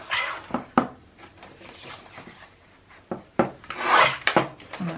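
Glued scrapbook paper pages being pulled apart, giving close, rasping tearing and rubbing bursts with sharp cracks, with a louder rip near the end.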